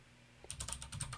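Quick bursts of typing code on a computer keyboard, about eight close, crisp key clicks in a fast uneven run after a brief quiet start, fairly faint with no voices.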